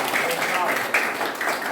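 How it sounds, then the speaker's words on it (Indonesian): A classroom of students applauds in a brief, dense patter of clapping that blends with a voice talking over it. "Kasih tepuk tangan."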